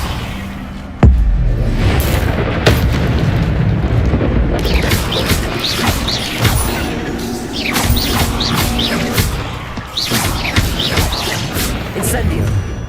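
An Expelliarmus spell is cast in the video game Hogwarts Legacy, a sudden loud boom followed by crackling magical bursts and whooshes with birdlike chirps, while a voice talks over the game.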